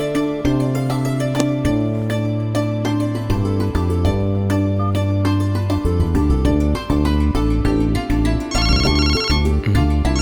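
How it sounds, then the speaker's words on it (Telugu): A phone rings with a loud, continuous melodic ringtone, its repeating tune playing clearly without any talking. "ఇదేంటి ఇప్పుడు ఫోన్ చేస్తుంది?"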